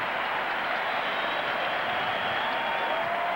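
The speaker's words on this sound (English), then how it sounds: "Patrick Ewing, hearing it from the crowd" Steady roar of a basketball arena crowd at a 1992 NBA playoff game between the Bulls and Knicks, a dense continuous wash of cheering and murmur with no breaks.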